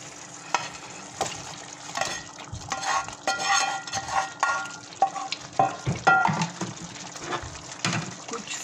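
Chicken cooking in gravy in a pan gives a soft, bubbling sizzle with irregular scraping and stirring strokes, fairly quiet and close.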